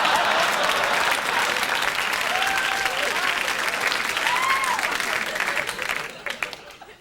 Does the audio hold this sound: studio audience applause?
yes